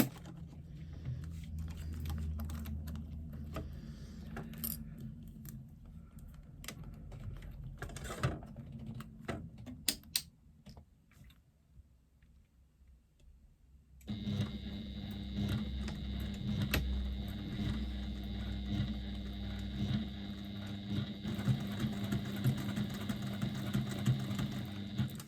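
A domestic sewing machine runs in quick bursts of rapid rattling while top stitching, pausing briefly before a steadier, louder stretch of stitching, with no talk.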